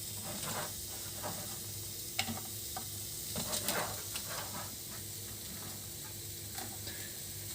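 Half a cup of onions fry in about two tablespoons of oil, giving a steady close sizzle with scattered scraping stirs and a few sharper clicks, no voices.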